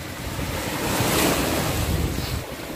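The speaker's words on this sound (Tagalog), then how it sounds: "Medyo malakas ang alon ngayon." Strong ocean waves surge and crash along the shore under gusty wind noise, building to a louder swell midway, with no talking.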